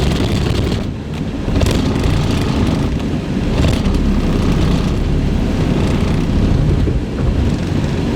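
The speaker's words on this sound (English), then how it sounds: "aside from the rattling that you no doubt can hear" From inside a cheap old car on the move comes loud, continuous road and engine rumble, with rattling knocks rising through it at irregular moments and no voices over it.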